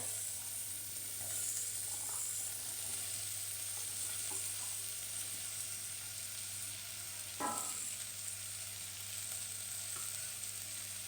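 Peas, potato and carrot frying in a hot pan for peas pulao, a steady sizzle with occasional stirring scrapes and one brief louder clatter, no voices.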